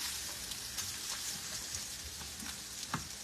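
Pancakes and sausage sizzling together in a pan, a steady bright crackle of frying with small pops and spatters throughout, close and moderately loud, no talking.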